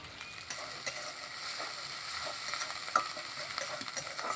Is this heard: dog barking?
no